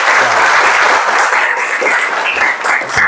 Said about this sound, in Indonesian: Berikan tepuk tangan buat semua dulu.